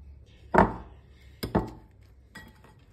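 Lettuce salad tossed in a bowl with utensils, a few sharp clinks and scrapes in two bursts with a softer one at the end, close by and otherwise quiet.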